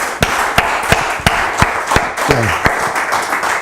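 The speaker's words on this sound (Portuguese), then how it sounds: "Palmas para o Senhor Jesus Cristo" A church congregation claps in a steady, even rhythm for Jesus Christ, loud and close, with a brief voice rising partway through.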